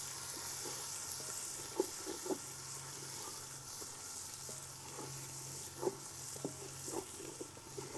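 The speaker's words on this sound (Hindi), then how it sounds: "अब यहाँ पे मैं इसमें शामिल करूँगी लहसुन अदरक का पेस्ट फ्राई हो चुका है।" Ginger garlic paste frying in a pan for a dhaba-style tarka dal, giving a steady broad sizzle and hiss with occasional soft stirring clicks, continuous and moderately close, without speech.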